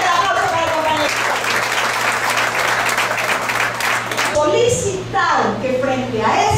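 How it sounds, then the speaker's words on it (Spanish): A crowd at a union assembly applauds for a colleague, a steady dense clapping that lasts the whole stretch, with voices mixed in underneath. "Fuerte aplauso para el compañero."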